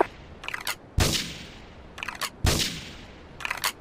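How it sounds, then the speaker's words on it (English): Gunfire in the video game Grand Theft Auto III: two sharp, loud shots about a second and a half apart, each followed by a quick decaying tail, with bursts of softer crackling shots between them. "Let's report the gunfire and explosions."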